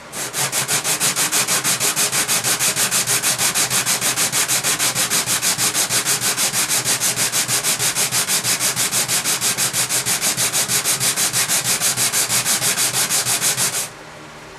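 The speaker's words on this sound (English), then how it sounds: "I'm going to rub my bridge back and forth" A guitar bridge is rubbed back and forth on sandpaper in a steady, rapid scraping rhythm, loud and close, running without a break for about fourteen seconds before cutting off.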